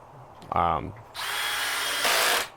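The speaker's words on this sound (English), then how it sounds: "So here I am installing the side panel again, using those same number 8 stainless steel countersunk screws" Power drill driving No. 8 stainless steel countersunk screws into the side panel of a fillet table, a short brief burst followed by a steady loud whirring run of about a second and a half that stops abruptly.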